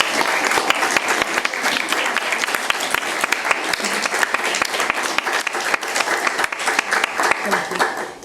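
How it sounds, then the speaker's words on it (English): An audience applauds the speaker and discussants at the close of a panel discussion on EU values, with steady, dense clapping that fills the whole stretch at an even, fairly loud level. "I would like to give a warm round of applause to our speaker, but also to our discussants"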